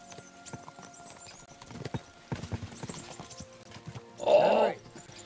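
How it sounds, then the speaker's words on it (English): Horse hooves clip-clopping in the medieval game Kingdom Come Deliverance 2, a run of uneven hoof strikes on the ground among a crowd of people, followed near the end by a short loud neigh. "Oh, horses."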